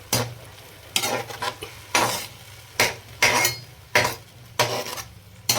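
Potatoes are stirred into onions and chillies in a pan for a potato and radish-pod sabzi. A spatula scrapes and clinks against the metal in about seven regular strokes over a faint sizzle, loud and close, with no talking.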